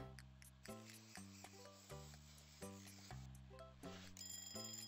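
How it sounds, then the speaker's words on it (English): An alarm-like jingle from the restaurant video game Papa's Freezeria, a run of bright, regularly repeating electronic tones in steady rhythm, loud and alone without any talking. "Oh, alarm."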